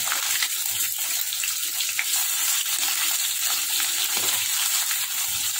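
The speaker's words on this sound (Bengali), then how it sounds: "মাছটা কিন্তু খুব বেশি কড়া করে আমি ভাজবো না, জাস্ট হালকা করে একটু ভেজে নেব।" Hilsa fish fries lightly in hot oil, a steady close sizzle with a bubbling, watery hiss that carries on evenly throughout.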